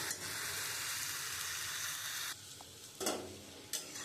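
Water hits a hot pan for Kashmiri dum aloo and sends up a loud, steady sizzle that cuts off abruptly, followed by a few short clatters and hissing bursts nearby.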